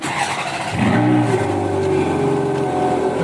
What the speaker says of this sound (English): There's nothing like a Ferrari cold start.